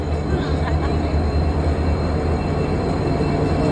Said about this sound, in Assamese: গাইজ কিবাকে আহি পালে দিয়ক আমাৰ ট্ৰেইনখন